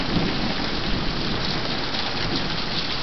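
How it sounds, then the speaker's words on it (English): Steady rain hisses on surfaces during a thunderstorm, with a low rumble of thunder rolling beneath it, a dense and constant wash of sound with no one speaking. "All I hear is the thunder"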